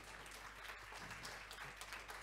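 Audience applause in a German panel-discussion hall for a professor, a dense, even wash of clapping that stays quiet and distant throughout.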